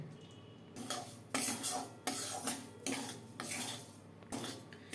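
Semolina frying in hot ghee in a pan, with repeated metal spoon scrapes and stirring clatter against the pan in irregular bursts, close and moderately loud, with no voices.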